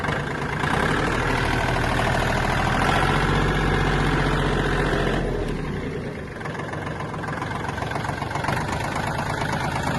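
A Kubota L1-185 Japanese mini tractor engine runs in a low gear, a steady close mechanical drone that eases slightly midway and then carries on evenly, with no speech.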